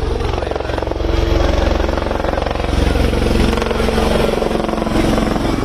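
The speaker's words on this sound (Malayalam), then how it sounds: "സാരംഗ് ഹെലികോപ്റ്റർ ആശുപത്രിക്ക് മുകളിൽ വട്ടമിട്ട് പറന്നു" An Indian Air Force Sarang helicopter circles over a general hospital, its loud, steady rotor thump and engine roar filling the air continuously at close range.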